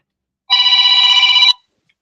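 A phone rings after being called through Google, one steady electronic ringtone burst lasting about a second, loud and close, with silence before and after.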